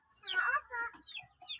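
Chickens cluck in a few short, close bursts with rising and falling calls. The sounds come in uneven clusters over a brief moment, with a faint low rumble beneath them.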